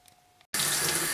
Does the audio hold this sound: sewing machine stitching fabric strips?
no